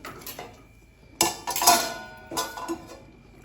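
A metal lid goes onto a pot of simmering vegetable curry with fenugreek, peas and white gravy: a few close clanks and rattles of metal on metal, separated by quiet pauses.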